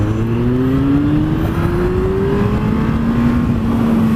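A Honda CB1300 S motorcycle accelerates hard from about 30 mph, its engine note climbing steadily in pitch as it revs up, loud and close with wind rush.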